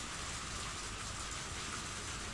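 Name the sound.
rain in video game Higurashi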